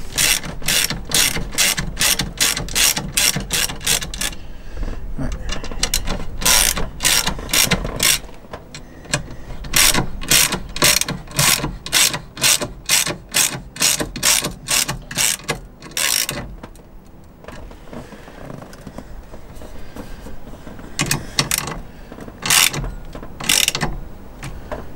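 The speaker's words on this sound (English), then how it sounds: "it's gonna seem weird using a socket extension on it" Ratchet with a socket extension tightening the nut on a steering wheel fitted to a Suzuki Carry, rapid close clicking in repeated bursts with short pauses between strokes; no voices.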